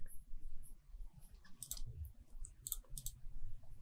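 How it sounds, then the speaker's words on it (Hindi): A computer mouse double-clicks to open a Qualcomm phone-unlocking software tool, giving a few sharp, close clicks over a steady low background hum. "यहाँ पे टूल को सिंपली हम डबल क्लिक करके ओपन कर लेंगे"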